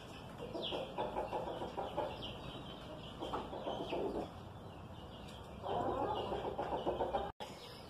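Chickens cluck and murmur inside a henhouse as they peck at feed scattered on the floor, a busy, steady flock chatter with a few louder calls and no talking.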